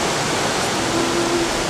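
Water rushing through a newly formed stream channel on a Sumatra beach after low tide, a loud, dense, continuous wash heard close for under two seconds, with no voices.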